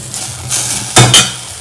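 Broccoli and chickpeas fry in a pan while being stirred, a soft sizzle under scraping, broken by two sharp metallic clinks of a utensil against the pan close by.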